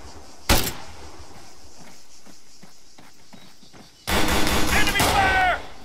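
Enemy gunfire in the ARMA 3 military shooter: one sharp, close shot, then a few seconds of quieter clatter before a loud burst of fire mixed with raised, shouting voices.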